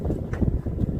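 Strong wind buffets the microphone high up on a swaying tower, giving uneven low rumbling gusts with no speech.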